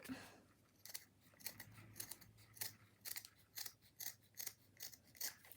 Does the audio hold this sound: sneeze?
no